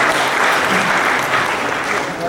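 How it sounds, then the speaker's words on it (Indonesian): Audience applause at a formal congress session, dense steady clapping filling the whole stretch with some voices mixed in beneath it. "Sekali lagi mohon tepuk tangan yang meriah."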